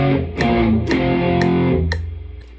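A power chord exercise on a distorted electric guitar, loud chords changing roughly every half second over a ticking metronome, fading out as the last chord decays.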